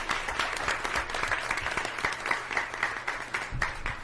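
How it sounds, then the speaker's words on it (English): Audience applause at a school board meeting, a sustained patter of many hands clapping at moderate loudness, with a few sharper claps standing out. "Please join me in giving them another round of applause for coming and speaking their voice today"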